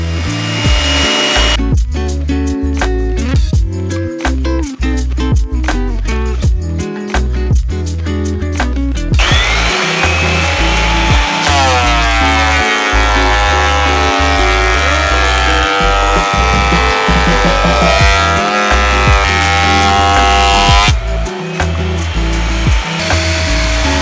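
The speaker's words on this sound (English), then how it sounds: "so I'm going to run them through this thickness planer" Old, partly rotted cedar boards fed through a thickness planer: loud bursts of rapid cutting chatter for several seconds, then a sustained motor whine that rises and falls, with another short burst near the end.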